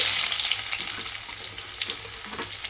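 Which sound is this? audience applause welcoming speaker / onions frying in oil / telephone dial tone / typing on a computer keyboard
onions frying in oil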